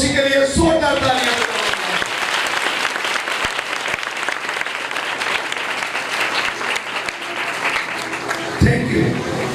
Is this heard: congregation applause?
yes